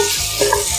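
Vegetables sautéing in a pan for homemade vegetable broth, with a steady sizzle and soft stirring scrapes close by for a brief moment, no voices.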